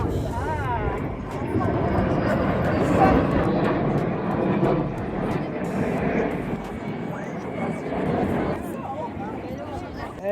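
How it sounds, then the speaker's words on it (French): An airplane passes overhead as a steady, broad roar that swells and fades across about ten seconds, with people talking underneath. "Quand les avions passent."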